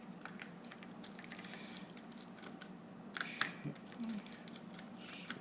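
Small screws are worked out of a Logitech Harmony 900 remote with a screwdriver, giving faint close clicks and ticks in an uneven rhythm over a quiet room.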